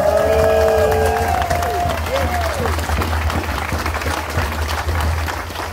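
Crowd applause and cheering for a representative at an outdoor march, sustained clapping mixed with whoops and a loud whistled or shouted tone at the start, with voices in the crowd.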